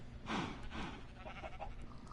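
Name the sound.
sheep bleating in Minecraft video game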